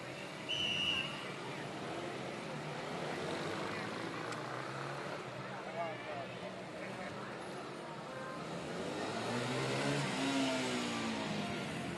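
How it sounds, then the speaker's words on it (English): Shrine patrol motorcycles rev their engines during a Fourth of July parade in Cannon Falls, a steady mid-distance engine roar with surging throttle bursts that continues throughout amid crowd noise and faint talk. "Rochester Shrine Cycles trying to get some rubber off their tires."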